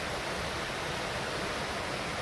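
A river waterfall in a canyon, a steady, even roar of falling water filling the air without change.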